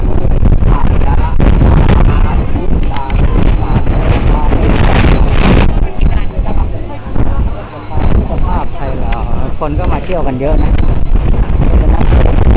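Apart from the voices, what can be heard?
strong wind blowing on a bridge, wind noise on microphone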